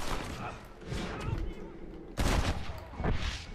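Gunfire in the video game Red Dead Redemption, a couple of loud sharp shots cutting through a busy game soundscape with voices talking underneath.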